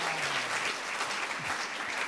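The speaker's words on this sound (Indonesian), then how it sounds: "Berikan tepuk tangan buat Shirley dan Sunbi" An audience claps in a continuous wash of applause, fairly close and steady for a couple of seconds, with a faint voice briefly underneath.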